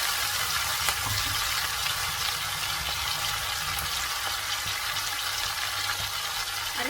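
Masala paste with curry leaves sizzles and fries in hot coconut oil for a paneer gravy: a steady, close, continuous crackling hiss with no pauses and no talking.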